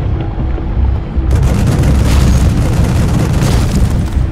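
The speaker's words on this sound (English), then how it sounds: "Let me try out these shredder grenades." Grenade explosions from the StarCraft 2 shredder grenade, a loud sustained roar of blasts and booming rumble with crackling bursts that swells after the first second and stays dense to the end, no voices.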